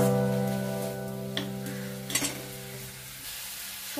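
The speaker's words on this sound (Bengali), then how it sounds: "দিয়ে ভালো করে মশলাকে আমি কষে নেব।" Ginger-garlic paste and spices frying in a pan for a fish kalia, with a soft steady sizzle and a few scraping stirs, then quieting toward the end.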